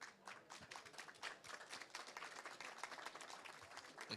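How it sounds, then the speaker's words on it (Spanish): Warm applause from an audience at a pavilion event on Indigenous People's Day at COP28, dense steady clapping throughout, fairly quiet and distant. "Un aplauso para ellas, por favor."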